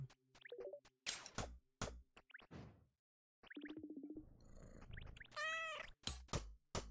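A cat meows in the video game Forager, a bright wavering call among short plopping and clicking game effects, fairly close and clear.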